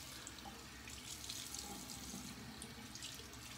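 A bathroom tap runs steadily as water is used to wet the face before shaving, a soft continuous splashing stream with faint drips, heard alone without talk.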